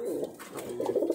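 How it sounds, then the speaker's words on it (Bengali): Giribaj pigeons coo in soft, throaty rolling bursts at close range, two or three calls overlapping one another with brief pauses between them. "এই আরেক জোড়া কবুতর দেখালাম আপনাদেরকে"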